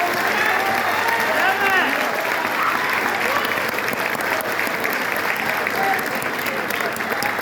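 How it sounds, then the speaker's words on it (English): Applause from a graduation audience for a building services group, a full steady crowd of clapping that holds evenly throughout, with a few voices and cheers mixed in. "Round of applause for Building Services."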